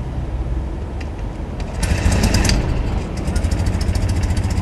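A 1965 BMW R69 motorcycle started from cold with one kick, the engine catching halfway through and settling into a steady, close idle with a fast, even mechanical chatter.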